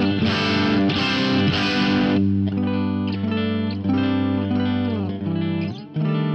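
Electric guitar played through a real Plexi amp with heavy distortion, ringing sustained chords and notes that shift from a thick, saturated attack to smoother tones, loud and close with no talking.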